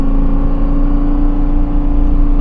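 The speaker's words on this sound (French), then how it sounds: "je vous laisse apprécier le son du V10, c'est la folie quoi" A Lexus LFA's naturally aspirated V10 engine roars loudly from inside the car, a dense, steady high-revving drone with a strong low rumble, sustained without a break.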